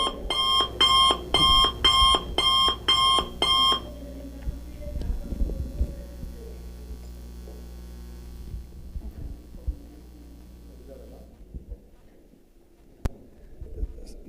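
An alarm clock sounds loud and close with rapid, repeated beeping bursts for about four seconds, then stops. Faint rustling and low room noise continue afterward.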